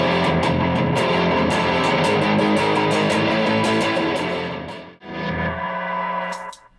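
Heavily distorted electric guitar chords from a Harley Benton SC-Special through a Rat-type distortion pedal ring out loud and thick, sustaining with a gritty crunch before a brief break and a final ringing strum.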